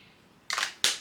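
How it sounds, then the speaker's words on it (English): A perfume bottle spritzing three quick close-range sprays, two full bursts followed by a shorter one. "Let me spray some of this."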